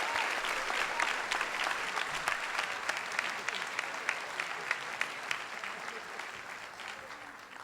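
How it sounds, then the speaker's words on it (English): Audience applauding at a 2011 commencement ceremony, a dense, steady stream of many hands clapping at mid distance, with sharper individual claps standing out and slowly thinning toward the end. "So give them a round of applause."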